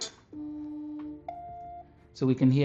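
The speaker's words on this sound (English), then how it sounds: "we can come to the speakers and listen to how loud the speaker is" An old Samsung phone speaker plays steady electronic test tones, first a low sustained beep then a higher one, followed by a short burst of louder sound.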